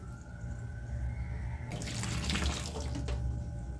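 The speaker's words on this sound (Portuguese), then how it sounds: "Ah, começou a ferver." Water in a pot starts to boil, a quiet low rumble giving way to a steady rushing, bubbling hiss that swells partway through.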